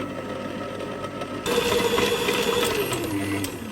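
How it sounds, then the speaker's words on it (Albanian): An electric mixer kneads bread dough with a steady mechanical whir that jumps noticeably louder partway through, then keeps running evenly. "Lëshojna mikserin edhe përzina brumin mirë."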